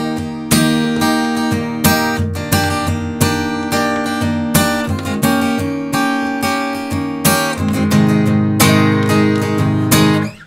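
Acoustic guitar plays the closing line of a verse from a song, strummed chords ringing in a steady, full-bodied rhythm, close and loud with no voices.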